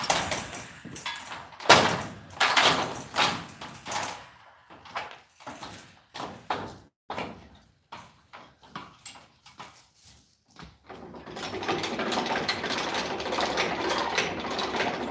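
A hand-cranked winch rigged on a ladder hoists a slaughtered pig, giving close bursts of ratcheting, clanking mechanical clicks with short pauses between cranks, then a steadier continuous rattle.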